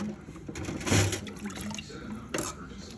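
Water is poured into a small portable mini washing machine. A brief splash and gurgle of liquid fills it for about three seconds, close and fairly soft, with faint talk in the background.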